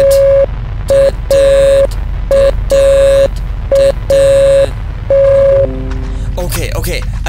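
Morse code tones in a video game, loud repeating electronic beeps of long and short duration in an irregular dot-dash pattern over a low background hum, ending in a burst of distorted noise.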